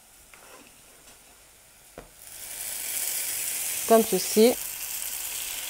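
Beef samosas dropped into hot oil in a pan, the sizzle swelling from quiet to a steady bright frying hiss, with a couple of short metallic clicks and a brief voice speaking over it.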